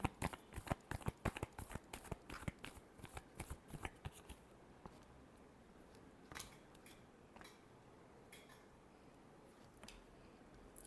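Tarot cards are shuffled up close in quick, crisp riffling flicks for about four seconds, followed by a few scattered softer card taps and slides against quiet background.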